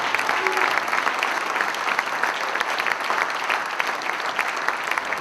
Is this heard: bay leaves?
no